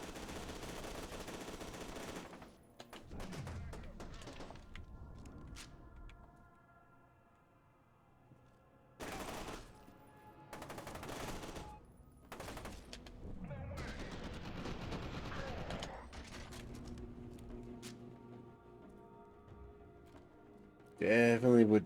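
Gun bursts from a weapon in F.E.A.R. 2 come in several separate volleys with quiet gaps between them, ending in a sharp, louder burst.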